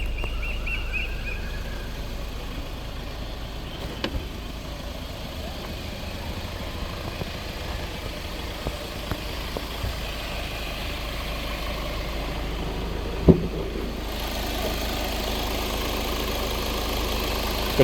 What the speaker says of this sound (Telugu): సింగిల్ సెల్ఫ్ ఇంజన్ అనేది స్టార్ట్ అయింది.